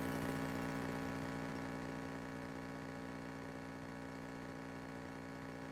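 A Cessna 172 piston engine idles steadily during a pre-takeoff idle check, a continuous low, even drone with a harmonic hum that barely changes in level throughout, with no talking.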